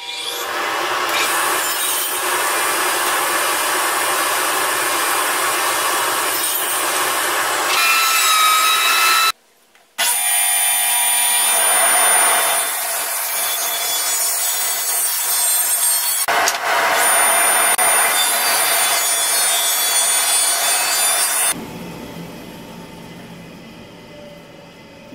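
Rough-cut pallet stock wood being sawn to length with a power saw, a loud, steady, close whine and rasp that drops out briefly, restarts, and changes tone near the end.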